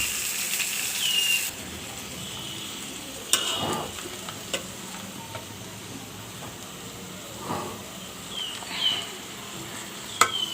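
Eggplant tipped into a pan of frying fish belly sets off a loud hissing burst that settles into a steady sizzle, broken by scraping stirs and occasional clatters.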